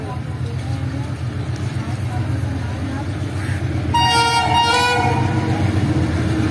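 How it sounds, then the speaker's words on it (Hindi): A train arrives at a station in Karachi on a rainy evening, its rumble running underneath while a horn toots out partway through, with people talking nearby. "ट्रेन आ रही है सामने से"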